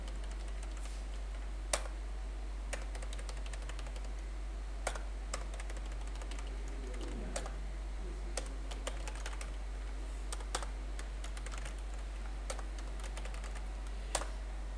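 Numbers being typed on a computer keyboard into an Excel spreadsheet, sparse individual key clicks at an irregular pace over a low steady hum, close and quiet.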